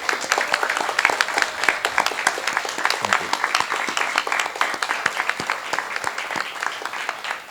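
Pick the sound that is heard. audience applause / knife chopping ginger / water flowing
audience applause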